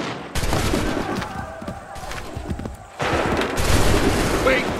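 Musket volleys in Assassin's Creed III, loud crackling bursts of massed gunfire in two waves with a lull between, while voices shout orders.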